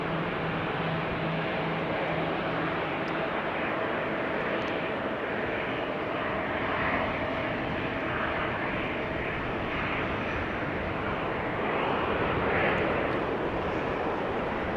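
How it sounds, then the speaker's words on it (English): A KLM Embraer 195 E2 jet airliner at Amsterdam Schiphol Airport on wet tarmac produces a continuous broad engine roar, steady and moderately distant, swelling slightly toward the end. "E2 Embraer 195 to Marseille, KLM."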